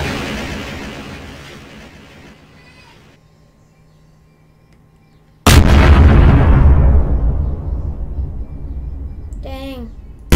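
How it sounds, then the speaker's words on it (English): Bombs blow up in Garry's Mod: a huge sudden blast booms and rumbles away over several seconds, after a fading earlier explosion tail, with a voice speaking briefly near the end. "Today we'll be blowing up all the bombs."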